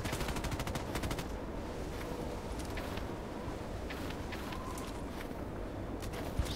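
Rapid bursts of gunfire from a shooter video game, with volleys of automatic fire loudest at the start, then scattered shots and lighter clatter continuing steadily throughout.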